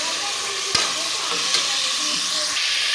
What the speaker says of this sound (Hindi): ये देखिए गाइस अच्छे से फ्राई हो चुकी है चिकन